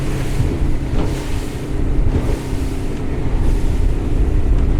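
A Highfield 560 Sport boat runs at 20 knots into a large wake from another boat, with steady wind rush, water spray and engine drone and a few soft thumps as the hull meets the waves.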